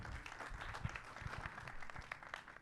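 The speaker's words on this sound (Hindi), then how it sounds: "एक बार जोरदार ताली होनी चाहिए।" Steady applause from a crowd at a film trailer launch event, continuous clapping with some louder individual claps standing out.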